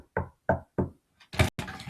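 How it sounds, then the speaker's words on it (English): Loud rapping at a wooden door: three sharp evenly spaced knocks, then a louder heavier blow followed by a rough scraping noise, close and dry against silence. "she heard a loud rapping at the door"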